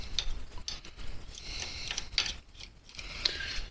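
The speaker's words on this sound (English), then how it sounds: "And then I usually use a ratchet wrench for this." Ratchet wrench turning in short bursts on a motorcycle jam nut during a chain replacement, giving repeated clicking runs close to the microphone with brief pauses between strokes.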